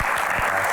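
Steady applause from a crowd, a dense continuous patter of clapping filling the short moment.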